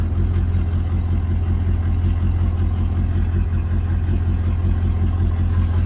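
A 1999 Dodge Durango running on the road, giving a steady low engine drone with constant road rumble, near and even throughout, with no talking.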